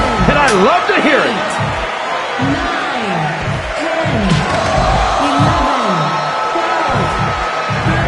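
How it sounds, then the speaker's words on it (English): Capacity crowd at a professional wrestling six-man tag match roars steadily with cheering and shouting, a loud dense wall of voices filling the arena throughout. "This capacity crowd is making their opinions known tonight."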